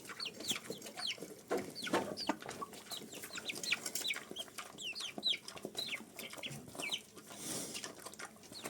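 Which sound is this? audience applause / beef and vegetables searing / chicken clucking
chicken clucking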